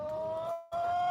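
A pet hen named Coco clucks in a steady, close, tonal run, with a brief pause midway before the clucking resumes.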